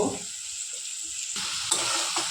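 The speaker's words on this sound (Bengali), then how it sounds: "এখন আগে দিয়ে দেবো পেঁয়াজ কুচানো, নুন দিয়ে দেবো, হলুদের গুঁড়ো দিয়ে দেবো, তারপর নাড়িয়ে" Chopped onion with salt and turmeric sizzles in hot oil in a pan while being stirred, a steady close frying hiss with a few soft spoon scrapes over a short stretch, no voices.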